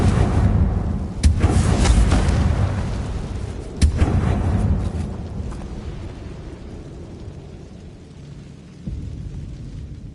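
In Hogwarts Legacy, the Confringo blasting spell sets off several loud booming explosions, with sharp blasts near 1 and 4 seconds and rumbling tails that fade, then one more softer blast near the end.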